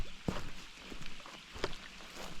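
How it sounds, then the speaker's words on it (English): Soft lake water splashes and laps nearby near Yamnuska, Alberta, a couple of sharper slaps against a gentle background hiss, faint and outdoors with no talking. "Water just splashing on the lake there."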